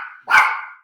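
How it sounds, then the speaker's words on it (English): A dog barks at its own reflection in a mirror or door, giving one sharp close bark that is loud and alone. "He's barking at himself."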